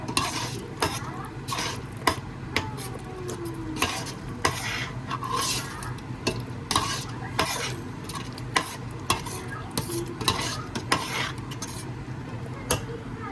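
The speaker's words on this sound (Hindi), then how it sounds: "अब इसको इसके साथ अच्छे से भूनेंगे." Spinach and yogurt sautéing in a pan while a spoon stirs: rhythmic scraping strokes and sharp clinks against the pan over a continuous low sizzle, close and busy, with no talking.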